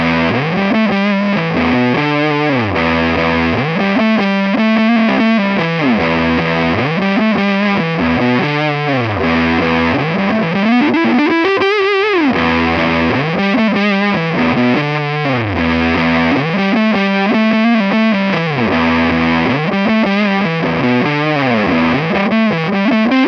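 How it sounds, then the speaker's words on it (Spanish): Lead guitar played through a Walrus Audio Iron Horse distortion pedal set for a bass-heavy tone, loud and continuous melodic lines with thick saturated sustain and bends throughout, no voices. "Probemos ahora una distorsión con más bajos, a modo de lead guitar"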